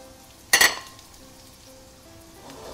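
Chorizo pamplona dropped into a hot paella pan gives one sharp burst of sizzling, then a quieter crackle that fades and picks up slightly at the end.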